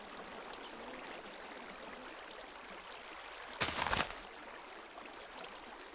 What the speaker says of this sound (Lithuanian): Mes pastatysim vandenį čia ir pažiūrėsim, ar jis tikrai teka.